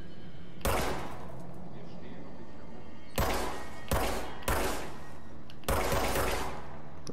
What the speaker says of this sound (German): Meine Schüsse verpuffen.